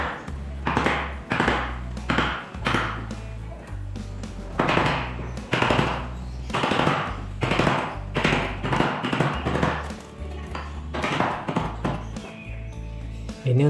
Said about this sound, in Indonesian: Sekarang kita dalamin lagi bekas engselnya karena tadi sudah terkikis karena kena serut.